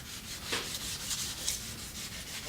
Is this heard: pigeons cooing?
no